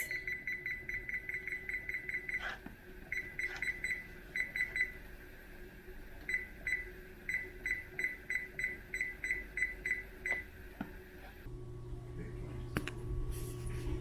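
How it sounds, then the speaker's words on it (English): A kitchen timer goes off while a homemade peach cobbler bakes, giving clusters of sharp, repeated electronic beeps in a steady rhythm over a quiet room hum, then stopping abruptly. "timer just went off"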